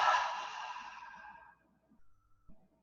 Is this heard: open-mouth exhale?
yes